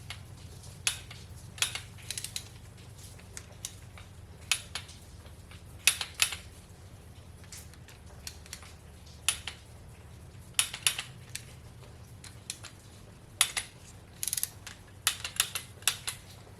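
Click-type tool snugging up bolts during a 5.3 LS V8 short block assembly, faint scattered sharp clicks and ticks spread irregularly over a quiet low hum.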